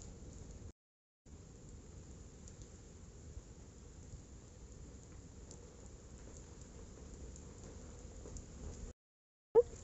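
Steady rain during a mountain hike on the Wilson Trail near Devil's Peak, a continuous low hiss and patter that drops out briefly twice, with a sharp knock near the end.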